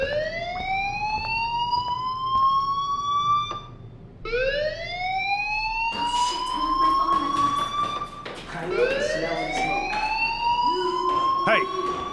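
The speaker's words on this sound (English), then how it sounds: "do you hear that fire alarm?" A fire alarm wails in long rising electronic sweeps that repeat steadily, loud and continuous, with a brief gap and some faint background noise.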